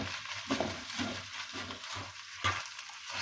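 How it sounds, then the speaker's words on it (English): Empanada filling with a little ketchup and salt being stirred in a pan, soft scraping strokes repeating in a loose rhythm over a quiet background sizzle, fairly close and without talk. "And the mixing continues."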